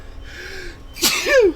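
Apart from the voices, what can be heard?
sneeze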